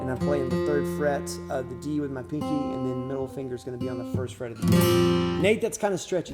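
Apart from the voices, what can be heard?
No distinct noise like a dog, phone or traffic.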